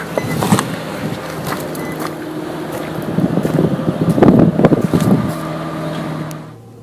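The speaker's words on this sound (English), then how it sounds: "So this is a cold startup. Here's how the car sounds cold." An 8th-generation Nissan Maxima engine cold-starts, a loud close cranking catch followed by a rising idle rumble that swells midway and then fades out, with some wind noise.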